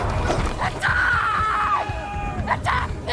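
Woman character screaming in a video game, a single drawn-out high wail over a noisy background, with groaning and crowd-like sounds around it.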